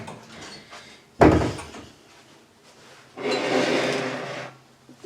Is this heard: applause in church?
no